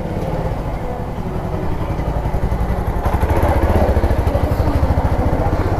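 A motorcycle engine runs steadily close by, a loud, even rumbling throb that grows slightly louder partway through.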